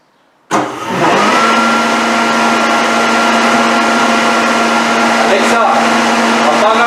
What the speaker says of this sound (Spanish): Alexa, enciende aspiradora.